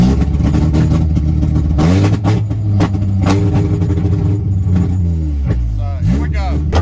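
A Honda CRX engine revs repeatedly through a limited range, loud and close, with rising and falling pitch sweeps over a steady rumble; a voice talks over parts of it.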